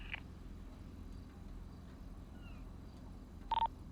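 Brief burst of telephone keypad dialing tones from a phone in GTA roleplay on the NoPixel server, sounding near the end after a near-silent stretch of faint background hum.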